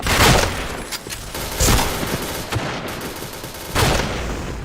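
Rapid bursts of gunfire from the first-person shooter Point Blank, with several clustered volleys and shots rising loudly over a busy game mix, spaced apart by short gaps.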